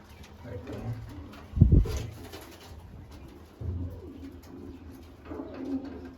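Soft, low pigeon coos rise a few times in a row, fairly close, with faint background noise between them.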